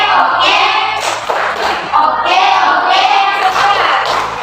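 A classroom group performs a 'tepuk jempol' clapping routine for a presenting group, loud rhythmic claps and thumps mixed with children's chanting voices throughout.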